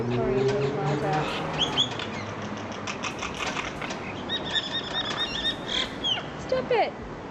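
Birds squabble and squawk in a scuffle, with harsh calls, chirps and bursts of wing flapping spread across the stretch over steady background noise.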